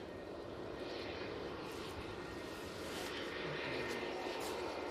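An aircraft engine roars steadily at Manchester Airport as a propeller plane, an Aer Lingus Regional flight from Belfast, approaches; a broad, continuous distant rumble that swells slightly toward the end, with no talk.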